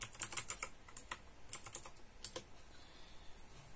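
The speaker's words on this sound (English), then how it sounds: "So you need to type cfdisk/dev/ your drive name" Fingers type a cfdisk command on a computer keyboard, a quick run of light, close key clicks in an uneven rhythm that taper off into quiet after about two and a half seconds.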